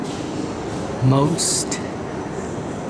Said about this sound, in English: And this train I'm getting is going to the Palace of Culture and beyond.